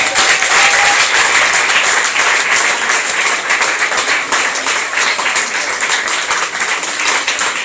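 A church congregation breaks into loud, sustained applause that fills the room, steady dense clapping running throughout with no pause.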